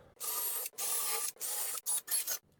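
Cordless drill with its clutch set to 4 driving screws into a cedar planter box, several whirring bursts of varying length separated by short gaps, the last ones shorter, close and fairly loud.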